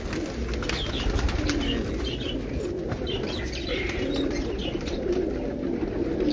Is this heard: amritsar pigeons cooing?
yes